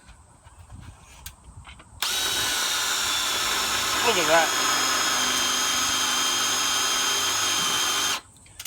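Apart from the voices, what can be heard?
power drill drilling steel with sharpened half inch bit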